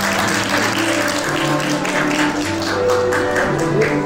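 Wedding guests applaud during a ceremony in a wedding hall's grand ballroom, a steady wash of clapping under soft sustained background music, moderately loud and continuous throughout.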